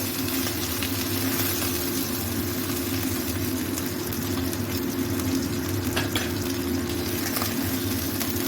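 Boal catfish frying in hot oil with a constant crackling sizzle, plus a low steady hum underneath.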